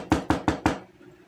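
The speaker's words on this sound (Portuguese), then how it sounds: "bateu na porta." Four quick, evenly spaced knocks on a wooden door used as a sound effect in a told story, close and crisp, followed by quiet.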